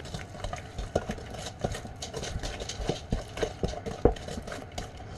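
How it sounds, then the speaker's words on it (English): A spoon stirs chocolate cake batter with a teaspoon of vanilla in a bowl for homemade German chocolate cake, giving soft, irregular scraping and knocking strokes at close range with no talk. "1 teaspoon of vanilla. And then mix that all together."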